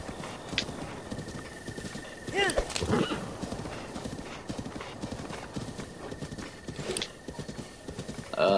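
A horse gallops in the video game Zelda Breath of the Wild, with steady rapid clip-clop hoofbeats, a couple of whinnies and snorts breaking through, and a person's voice briefly heard over the game sound.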